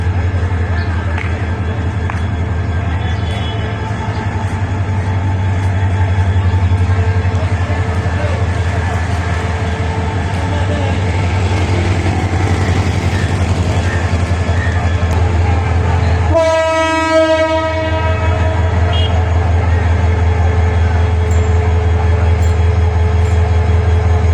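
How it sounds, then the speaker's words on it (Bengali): A heavily overcrowded passenger train sits stuck on the track, giving a loud, constant low rumble close by, broken once by a single long horn blast, with voices faintly underneath. "ট্রেন ভারির জন্য যেতে পারতেছে না ট্রেন আটকে গেছে"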